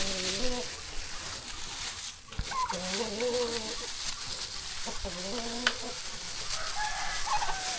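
Several rooster crows rise from a rural yard at moderate distance, each a rising-then-falling call, heard amid a steady hiss of rain or wind, with a quieter crow trailing off near the end.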